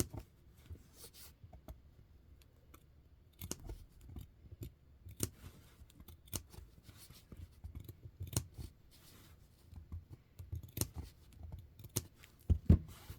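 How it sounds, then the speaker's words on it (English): Scissors make small clipping bites into the fabric seam allowance around a sewn facing. There are repeated short snips at an irregular pace, close and fairly quiet, with no talking. "you just literally clip all the way around"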